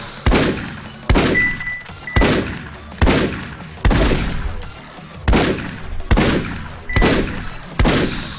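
Homing shots fire in the roguelike shooter game Paranautical Activity, a series of about nine punchy, booming blasts at a steady rhythm, each decaying before the next, loud and close.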